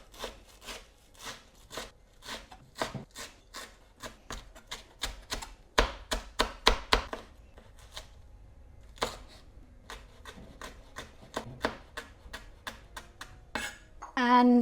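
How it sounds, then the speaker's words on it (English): A knife chops coriander and green chilies on a cutting board in quick, close taps with brief pauses between runs. A louder clatter comes near the end. "I'm just going to chop a handful of coriander and a couple of green chilies"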